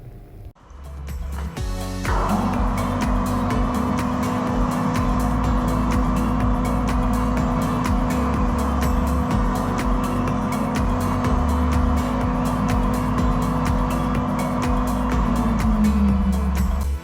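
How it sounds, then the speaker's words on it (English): A bench grinder with a wire wheel cleans a metal power steering feed tube for a Supra mk3, spinning up into a loud, steady whirring drone with a grinding buzz that holds throughout before a slight dip near the end. "I will do that in the bench grinder with the wire wheel"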